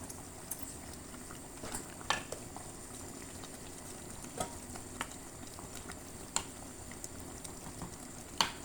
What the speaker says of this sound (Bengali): দিয়ে দেবো এখন আলু পাতা ডাঁটা সহ